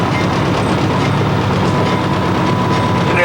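A freight train rolls along the tracks near Vaucluse, a continuous loud rumble with faint wheel clatter and a thin steady squeal, heard up close from the moving train without any talking.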